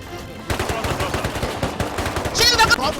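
Rapid automatic gunfire rings out during an online raid defense in the video game Rust, a dense burst of close, loud shots that rattles on for a few seconds.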